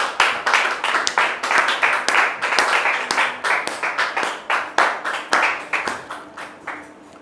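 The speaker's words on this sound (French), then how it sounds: "Anderson Kouadio, sous vos applaudissements, s'il vous plaît" An audience gives a welcoming round of applause for a guest on a show, dense clapping from many hands that rises to a loud, even patter and slowly thins out toward the end.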